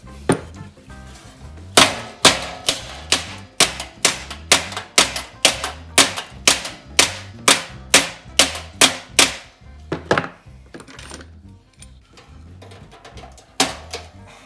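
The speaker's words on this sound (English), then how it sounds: "my top edge is a little bit out, so I'm going to peen that over into place" Hammer peening the out-of-line top edge of a frame panel on a 1970 Challenger, a rapid series of about twenty sharp metallic blows in steady rhythm, close and loud, pausing briefly before a few final strikes.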